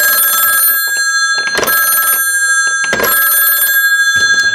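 A traditional telephone bell, triggered by an RC4 wireless telecue, rings in close, loud double bursts with short silences between them, and no voices are heard.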